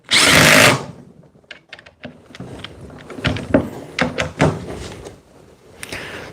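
A Dewalt DCF870 impact driver drives 3.5-inch screws. It opens with a loud, brief whirring burst, then a series of uneven, close clicks and knocks follows for several seconds.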